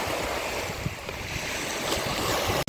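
Big waves break along the shore at Juodkrantė with a constant, loud wash of surf and wind buffeting, broken by one brief dropout near the end.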